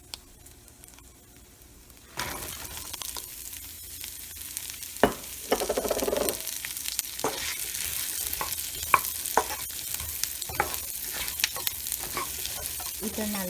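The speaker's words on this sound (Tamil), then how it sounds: "இதை நல்லா வதக்கி விட்டுக்கோங்க." Large onions sautéing with a little salt in a pan, a steady sizzle that starts abruptly and continues under irregular stirring scrapes and clacks, close and moderately loud.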